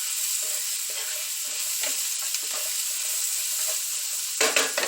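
Vegetables for potato soup sauteing in a pan give a steady, close hiss and sizzle. Soft stirring scrapes run through it, and the sizzle swells louder near the end.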